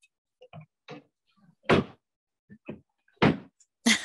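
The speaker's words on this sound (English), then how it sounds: "the doors open and close easily and smoothly" Cabinet or closet doors in a rental unit being opened and shut, giving several quiet clicks and taps followed by three louder thumping bangs spaced about a second apart, heard close up with no talking.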